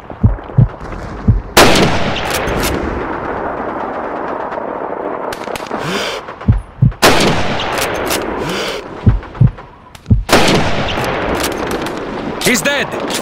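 Sniper rifle fire in the World War II shooter Call of Duty 2: several sharp, loud shots crack out at intervals over a continuous din of distant battle noise.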